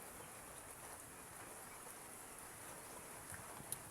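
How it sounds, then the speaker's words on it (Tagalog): Steady, faint hiss of heavy rain falling continuously, a broad wash of noise with no voices and no pauses. "Lakas ang ulan."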